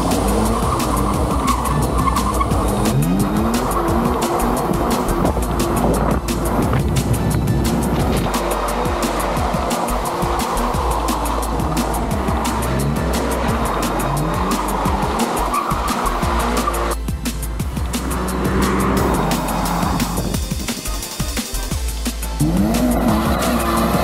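A brand-new Toyota GR86 two-door coupe with a 2.4-litre naturally aspirated four-cylinder boxer engine drifts and does donuts, tires squealing and skidding almost continuously over a loud, revving engine with rising and falling pitch sweeps, no talking.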